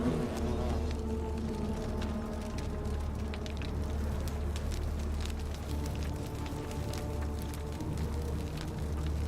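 An insect hive in The Forgotten City drones with a steady, close, continuous buzz that holds level throughout with no break.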